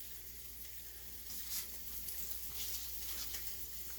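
Bacon bits crackle and sizzle in a cast iron skillet, a soft steady fry with scattered pops and spits, fairly quiet and with no voices.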